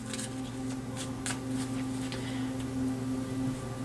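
Tarot cards being shuffled by hand, a soft, continuous papery riffling with faint flicks over a steady low background hum, fairly quiet and close.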